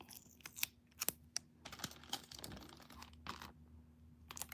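Tape being pulled and pressed onto handmade party favors, with crinkly tearing and crackling bursts in an uneven rhythm, close and fairly quiet.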